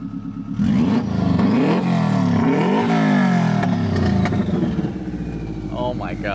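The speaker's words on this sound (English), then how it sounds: "Rev it again." A Porsche Spyder fitted with a Subaru WRX turbo engine and straight pipe revs hard several times, the pitch sweeping up and down loudly and close, then settling to a rough idle; voices are heard around it.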